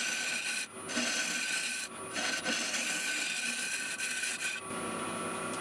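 A bowl gouge cuts into a spinning zebrano wood bowl on a lathe in sweeping passes, producing a steady rough rasping hiss that drops out briefly a few times between cuts.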